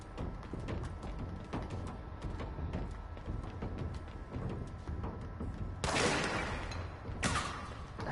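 Bursts of gunfire aimed at the player in the video game Control, rapid shots layered over a dense, steady game soundscape, with a louder burst toward the end.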